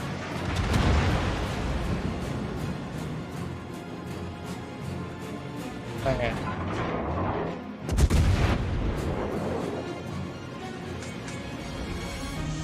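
Naval guns of the warship Yorck boom repeatedly in World of Warships, in heavy rolling salvos with the loudest blasts near the start and around the eighth second, over continuous battle rumble.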